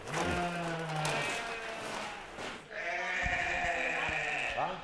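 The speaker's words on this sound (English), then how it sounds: "How many sheep do you have?" Sheep on a small island farm bleat repeatedly, several wavering calls close by, one long cry fading before another animal answers, with a brief voice in the background.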